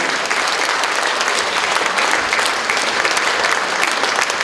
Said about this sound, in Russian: Ваши аплодисменты, дирижер, художественный руководитель оркестра Жакар Тахтонов.